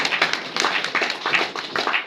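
Meeting audience clapping their hands together, a brisk, dense patter of close applause with quick irregular claps at steady loudness throughout, no voices over it.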